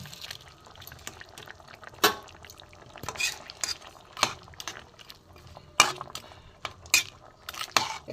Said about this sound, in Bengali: ভাজা মাছটা আমি দিয়ে দেবো।